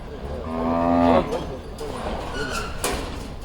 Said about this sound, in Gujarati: ગાયો આવે છે ભાઈ, જોજો.